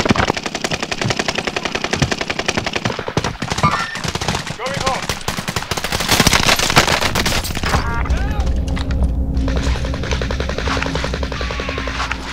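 Loud machine-gun bursts and rapid gunshots from a squad-based video game fight, with booming hits, then a steadier background of game noise as players talk over it.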